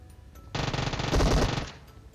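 An Uzi firing a rapid burst in PUBG Mobile, close and loud, a dense string of quick shots lasting over a second after a brief quiet lead-in, with no talk.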